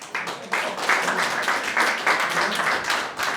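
An audience at a health talk on menopause and andropause applauding, a dense steady wash of clapping lasting several seconds with uneven swells.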